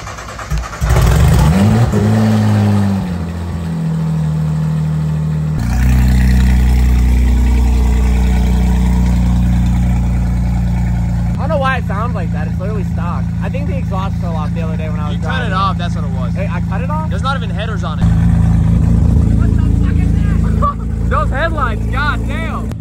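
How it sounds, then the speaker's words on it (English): A 2000-horsepower Nissan GT-R sits close by, its engine idling with a deep, uneven burble and then revving in loud bursts that rise and fall. People talk over the engine throughout. "Turn my car off so we could hear his car."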